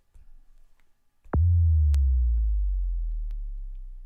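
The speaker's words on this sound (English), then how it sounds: "run through the subdrops, because they do get subby" A synthesized subdrop sound effect: a short click, then a deep sine-like bass tone that drops in pitch and slowly fades over a few seconds, clean and isolated.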